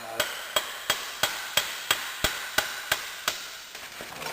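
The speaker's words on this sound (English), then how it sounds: "And then you start hammering at it." Metal hammer blows on the rear axle of a Honda CRF 150R motorcycle, with the nut threaded back on to protect the threads: about a dozen sharp, close, evenly spaced strikes with no talking.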